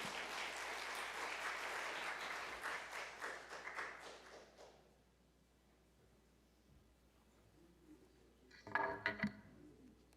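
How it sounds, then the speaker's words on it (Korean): A church congregation at a Sunday worship service claps to welcome the pastor, a dense burst of applause for several seconds that fades out, followed by quieter room sounds and a short clatter near the end. "우리 나오실 때 박수로 환영해 주시면 감사하겠습니다."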